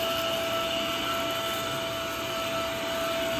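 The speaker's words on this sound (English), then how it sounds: "we're gonna grab our vacuum cleaner next" Vacuum cleaner running steadily while cleaning out a cabinet in a rental home, a loud continuous whooshing roar with a constant motor whine, close by, no speech.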